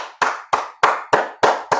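Six sharp hand claps ring out at a steady, quick rhythm, each close and distinct with a short decay, alone with no talking.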